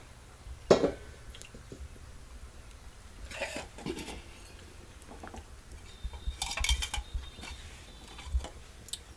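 A pan is set down on a kitchen stove for tempering, with one sharp metallic clank. A few quieter clatters and taps of cookware follow in a quiet room.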